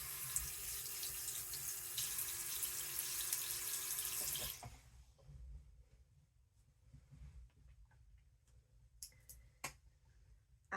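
A sink faucet runs steadily at close range while a sponge is wetted beneath it, then the flow shuts off after several seconds, leaving a quiet room with a few faint drips and small clicks.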